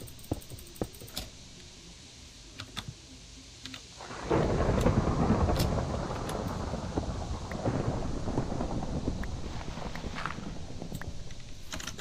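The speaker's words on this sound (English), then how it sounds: "I hear storms up there." A thunderstorm rolls through the Minecraft tornado mod video game: faint patter and scattered taps at first, then a heavy rumble of thunder breaks in and continues as a loud, steady roar of rain and storm noise.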